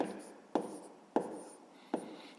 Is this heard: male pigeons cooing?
no